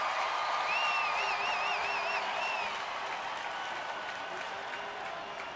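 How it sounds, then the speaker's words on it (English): A large crowd applauds and cheers steadily at a baseball game at PNC Park, a broad, sustained roar of clapping with a whistle cutting through early on. "And you got an amped up crowd here at PNC Park."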